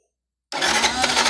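A small engine with a carburetor fitted with a vacuum-type fuel cock, the carburetor overflowing, fires up abruptly after a brief silence and settles into a loud, steady, raspy idle close by.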